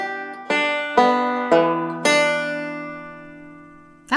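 A rusty beginner plucks a banjo: four slow, evenly spaced notes that each ring out and decay, followed by a longer fading tone and a short burst of sound at the very end.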